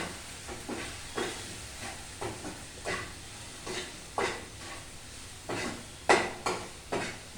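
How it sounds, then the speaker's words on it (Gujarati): A spoon stirs coriander-cumin powder and red chilli into restaurant-style dal fry in a pan, making quiet, regular scraping strokes roughly every half second over a faint sizzle. "હવે આને આપણે પાછું મિક્સ કરીએ."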